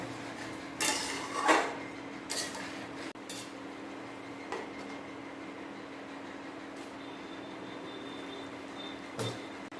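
Chicken stew with ginger, onion and garlic pastes stirred in a pot: a few metallic clinks and scrapes of a spoon against the pot over a quiet, steady background hum, with sparse knocks later.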